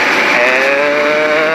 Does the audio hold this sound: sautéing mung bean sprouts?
no